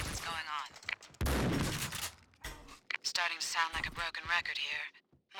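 Gunfire in the video game Max Payne 2, heard as loud dense bursts of shots while enemies are killed, with a heavy blast partway through and quieter stretches between volleys.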